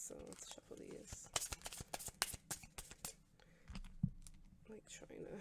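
Oracle cards are shuffled up close in a quiet room: crisp riffles and papery slaps come in quick irregular bursts, with soft taps between them and a gentle voice now and then.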